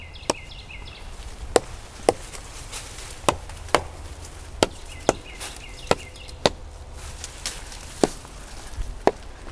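Knocks on a tree trunk testing for hollow decay, about a dozen sharp, solid-sounding taps at uneven intervals over quiet outdoor background with faint birds.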